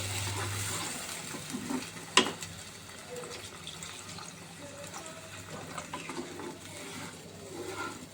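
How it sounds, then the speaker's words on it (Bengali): Filtered water poured from a bottle into a pot of paneer pulao, a steady watery trickle and splash after a brief clatter, fairly quiet in a kitchen. "আমি মেখে ফিল্টারের জলটাই দিই, কলের কোনো জল দিই না, যার জন্য বোতল দিয়ে ঢেলে দিচ্ছি"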